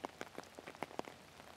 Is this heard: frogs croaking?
no